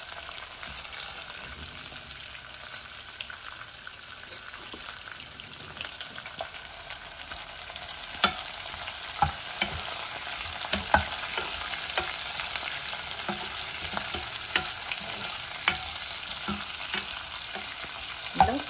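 Onions and curry leaves fry steadily in oil in a pan for majjiga charu, a continuous close sizzle broken by intermittent scraping of a stirring spoon, with no talking.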